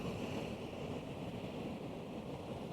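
Sea waves washing onto Southbourne Beach at night during a big spring tide, a faint, steady surf wash with wind rumble and no distinct breaking crashes.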